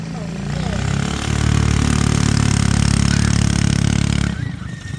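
A trike go-kart engine fitted with a new carburetor runs close and loud with a steady, throbbing idle that rises slightly, then cuts off abruptly just before the end.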